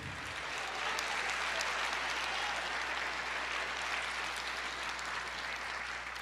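Church congregation applauding during a Portuguese-language sermon, a steady, dense patter of many hands clapping at moderate distance, continuous and fairly faint.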